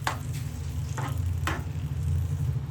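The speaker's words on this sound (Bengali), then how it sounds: "বয়েলড চিকেন জাস্ট কাসুন্দি আর গার্লিক পাউডারে ম্যারিনেট করে আমি এটাকে ভাজছি।" Boiled chicken, marinated in kasundi and garlic powder after being boiled with vinegar and salt, fries in a pan with a steady low sizzle and a few brief scraping strokes, close and quiet.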